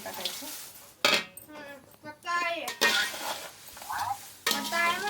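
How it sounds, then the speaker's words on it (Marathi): A spoon scrapes and stirs chivda snack in a pan, with rough clinks and scrapes of metal against metal coming in uneven bursts, close and fairly loud, while a voice talks over it. "आता त्याला मिळवून टाकायचं पद्धतशीर"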